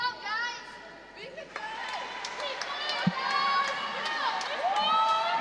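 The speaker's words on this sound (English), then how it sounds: "So you can hear the girls cheering their teammates on." Girls in a crowd cheer and shout encouragement to their teammates during an under-17 netball match between Scotland and England, a steady bright din of high voices with whoops rising and falling, with some speech mixed in.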